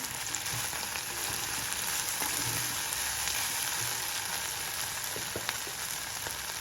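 Sprouted green peas fry in hot oil with a steady, close sizzle that holds even and unbroken throughout, with no voices over it.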